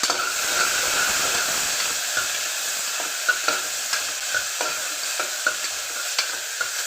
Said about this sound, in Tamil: வெங்காயம் கருவேப்பிள்ளை பச்சை மிளகாய் எல்லாத்தையுமே சேர்த்துக்கலாம்